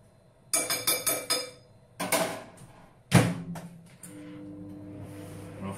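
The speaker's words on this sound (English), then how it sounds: "And then I will give it a little mix." A drink mixed with water is stirred in a glass: four or five quick, close clinks in a row, then a couple of louder knocks, followed by a low, steady hum.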